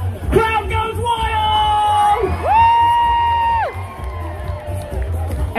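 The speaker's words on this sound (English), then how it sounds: "Crowd goes wild!" A crowd of children cheering and whooping at a Jubilee welly wanging event, loud overlapping yells and rising whoops close by, with tonal shouts swelling and then dropping off.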